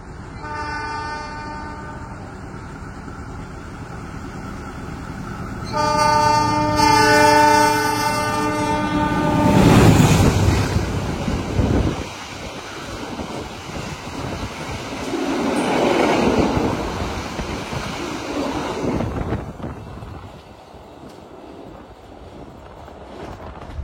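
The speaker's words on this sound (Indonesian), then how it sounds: "Nanti kereta api Mutiara Selatan dari arah Bandung akan melintas langsung di sini" A train horn sounds, rising as the Mutiara Selatan passenger train from Bandung roars through an Indonesian station without stopping, wheels clattering and rumbling loudly before fading away.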